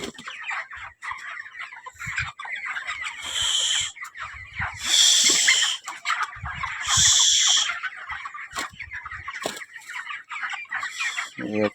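Chickens on a poultry farm cluck and squawk continuously, with several louder drawn-out calls rising above the flock's busy chatter nearby.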